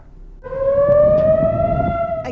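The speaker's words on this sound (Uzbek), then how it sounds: "Tel Aviv va markaziy hududlarda havo hujumi sirenalari yangradi" Air raid siren wailing over Tel Aviv, rising in and holding a steady, slowly climbing tone for about two seconds, loud and alone.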